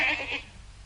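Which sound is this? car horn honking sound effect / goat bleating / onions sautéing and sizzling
goat bleating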